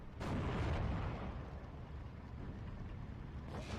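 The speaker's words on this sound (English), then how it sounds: "Oh my god, then blows up the Panzer IV." A Panzer IV tank blows up in the wartime strategy game Steel Division 2, a loud booming blast with a heavy low rumble that rolls on and holds steady to the end, with no voices.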